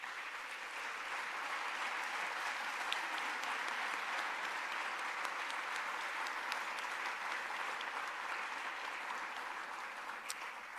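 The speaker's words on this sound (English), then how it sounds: "we ask that you please stand so that we can give you a round of applause" Audience at a State of the City 2026 address in South Fulton gives a standing round of applause, a steady, even wash of many hands clapping that continues unbroken for about eleven seconds.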